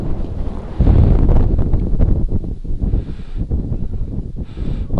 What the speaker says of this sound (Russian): Что-то ветер куда-то поднялся.